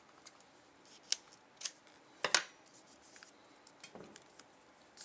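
Scissors snip a paper template for a knife in a quiet room, a few soft, separate cuts and rustles with one sharper double snip in the middle, close and faint.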